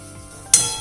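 Coarsely ground coriander and asafoetida dropped into hot oil, a quiet moment broken by a sudden sharp sizzling burst that fades slightly but keeps crackling.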